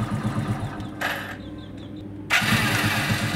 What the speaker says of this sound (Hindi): गाड़ी स्टार्ट किया हमने